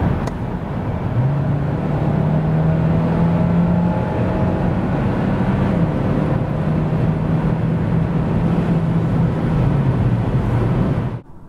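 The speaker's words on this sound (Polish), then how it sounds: "A tak od 90 do 140 km na godzinę." Steady, loud engine hum with road and wind roar from inside a Hyundai Tucson 1.6 hybrid SUV accelerating from 90 to 140 km/h, pitch rising gradually as speed builds, then cutting off abruptly.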